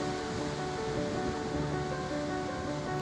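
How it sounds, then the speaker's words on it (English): Ocean waves crash against the rocky coast at Broken Beach on Nusa Penida, Bali, a constant heavy roar of surf with no voices. "a place where the ocean collides against a mighty rocky coast, Broken Beach."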